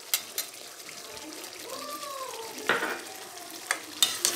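Crushed kasuri methi being stirred into a chicken karahi, a soft scraping stir over a low sizzle with a few sharper clinks of the spoon against the pan.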